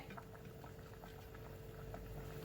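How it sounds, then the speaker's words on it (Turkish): Steady bubbling of a pot of lentil soup boiling on the stove, a continuous soft simmer with small pops, and no voices. "Mercimek çorbam kaynıyor."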